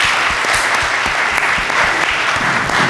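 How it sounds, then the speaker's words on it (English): A church congregation applauds its graduates during Sunday worship, a steady, dense wash of many hands clapping that stays loud and even throughout, with no voices rising above it. "Let's all give them a round of applause."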